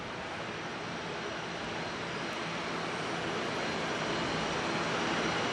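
Air New Zealand flight NZ147 departs Auckland at night for Brisbane, a broad, even jet engine rush that holds steady and swells slightly louder toward the end, with no one speaking.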